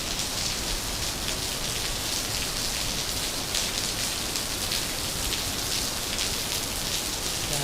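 Heavy rain pours steadily in Baguio amid thick fog, a dense, continuous hiss, loud and close with no pauses.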